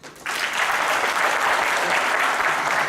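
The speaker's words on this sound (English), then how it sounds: "Please clap if you've ever in your entire life prayed." An audience applauding a speaker at a secular movement talk: after a quiet moment, full clapping swells in and holds as an even, sustained wash of many hands.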